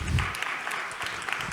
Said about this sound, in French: On peut les applaudir pour les encourager.